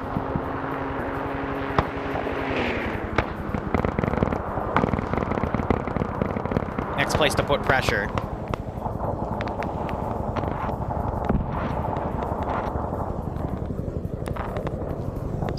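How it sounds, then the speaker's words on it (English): Distant rocket strikes from an airstrike in the Vietnam War video game Arma SOG Prairie Fire, a dense crackling, booming barrage of bursts and rumbles under a brief spoken voice, continuous across the scene. "Still hear that weird rocket effect over there from an airstrike."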